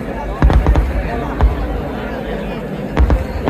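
Fireworks at a festival display in Kerala, heard as heavy booming bursts in irregular clusters over a steady low rumble, with a crowd murmuring throughout.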